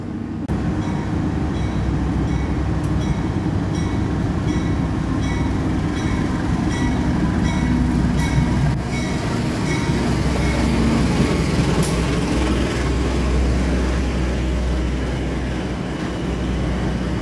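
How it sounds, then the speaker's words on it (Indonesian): A Jakarta–Tingkir passenger train departing Pasar Senen station rumbles steadily nearby with continuous low engine drone and rail noise, holding a constant level throughout with no talking. "ini kereta api Jakarta Tingkir yang akan berangkat dulu ya"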